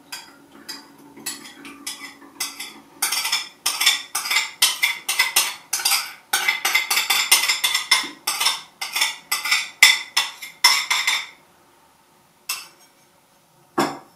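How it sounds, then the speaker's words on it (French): Rapid clicks, taps and scrapes from a small funnel and pump bottle as a gel mixture is poured through, close and moderately loud, ending in a few isolated knocks. "Donc on va vider le mélange dans un flacon pompe."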